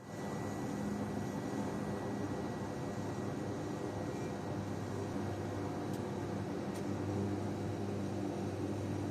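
A regional airliner arrives at an airport apron, its engines a steady, loud broadband roar and whine that holds evenly throughout, with no voices.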